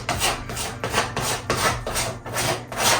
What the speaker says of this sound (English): I'm going to use a spatula from Home Depot, and I'm going to scrape